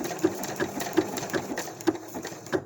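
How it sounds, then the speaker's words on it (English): Sewing machine running slow, careful satin stitch for raw edge appliqué, with a steady close mechanical hum and soft regular needle thumps about every third of a second, alone without talk. "And that is how you do satin stitch. Don't do it super fast, go slow and careful."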